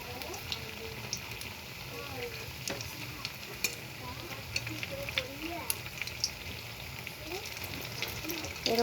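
Food frying in oil while a spatula presses it down, giving a steady crackling sizzle with small pops and scraping taps throughout.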